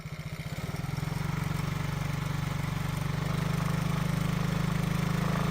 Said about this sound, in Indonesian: Motor kembali berjalan secara normal.